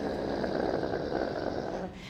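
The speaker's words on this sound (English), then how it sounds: "You're going to bend the knees and it's a guttural sound." A deep, rough, guttural breathing sound pushed from the belly during a yoga breathing exercise with bent knees, made by a person as one continuous, noisy exhale that fades slightly at the end.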